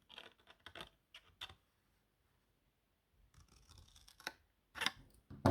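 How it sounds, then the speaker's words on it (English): Wenger Swiss army knife scissors make quiet, crisp snipping clicks, first in a quick cluster, then after a pause another short series of close cuts. "And then let's do a cut with the Wenger."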